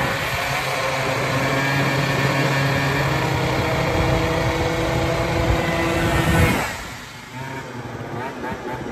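A 70cc Zuma scooter with a vertical Minarelli engine being ridden, its high-pitched buzzing engine steady and close for several seconds before the revs drop off sharply near the end.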